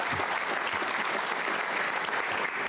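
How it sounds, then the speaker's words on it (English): Steady, full applause rises from the audience at a 2018 scholarship leadership breakfast, with many hands clapping evenly and loudly throughout the short stretch. "I want to give a round of applause to all the kids today."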